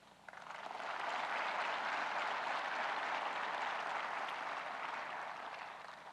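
A large audience at a Korean Police Day ceremony applauds, building quickly into sustained, even clapping that holds steady before easing slightly, somewhat distant and without speech.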